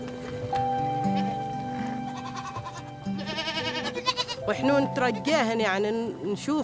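Goats bleat repeatedly as they head home to their pen after a morning of browsing for leaves in the Al-Ayn oasis, with several wavering cries growing louder toward the end, layered over background music.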